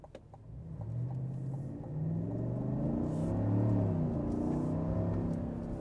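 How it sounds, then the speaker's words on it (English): A 2024 Chevrolet Silverado LTZ Z71 with its big V8 pulls away hard, a deep rumbling engine note rising and swelling through the gears, loud and close, with no talking. "what's the acceleration like from the Silverado with all that power under the bonnet with the big V8?"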